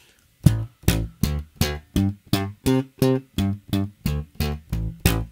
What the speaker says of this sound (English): But since I'm lifting up and muting them a little bit more,